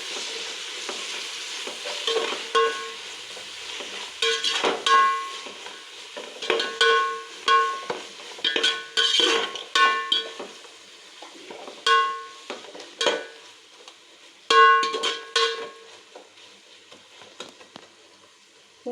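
Mint and coriander sautéed in a chicken biryani pot, heard as close, repeated spoon scrapes and stirring strokes in uneven bursts over a light frying sizzle.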